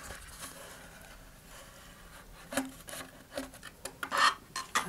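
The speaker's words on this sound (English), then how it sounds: "I'm just taking a long dowel and I'm spreading the glue around on the inside." Long wooden dowel rubbing glue around the inside of a model rocket body tube during an engine mount replacement, giving soft scraping strokes that grow louder and more rapid toward the end, with no talk.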